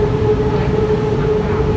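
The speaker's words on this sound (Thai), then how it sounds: "มีรถไฟมาล่ะ" A train rumbles past up close, a loud, steady roll with a sustained tonal hum riding over it, filling the whole moment without any voices.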